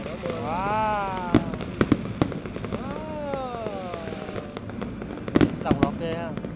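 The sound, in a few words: fireworks exploding at New Year show in Taiwan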